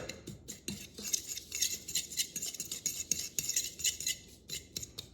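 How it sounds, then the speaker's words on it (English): A spoon stirs a dry spice mix of dry mustard, garlic powder and pepper in a bowl, making quick, close scraping and light clinking strokes in an irregular rhythm. "And give that a stir."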